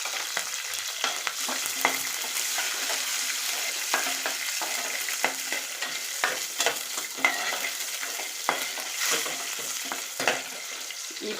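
Green chili and tamarind sauté in a pan for coriander chutney, a steady close sizzle broken by frequent scraping stirs, with no voices.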